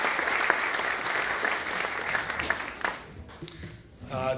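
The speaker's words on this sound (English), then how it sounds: "Please give all of them a round of" An audience applauds Hall of Fame inductees at a 2017 induction ceremony, a steady wash of clapping that fades out near the end before a voice begins to speak.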